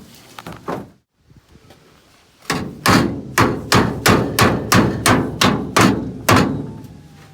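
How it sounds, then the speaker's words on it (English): A hammer drives headliner bows into a 1958 Plymouth coupe: a few taps, a brief pause, then a steady run of about ten loud, evenly spaced blows, close by and ringing slightly. "so we're hammering in those"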